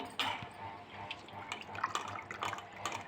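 Water bubbling and simmering in a pot before rice goes in for chicken pulao, a steady close, soft liquid churn with small pops and splashes, no voices.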